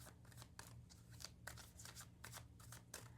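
Tarot cards shuffled by hand for a reading, a quick run of soft papery riffles and slaps repeating in bursts over a low steady background hum, close and fairly quiet.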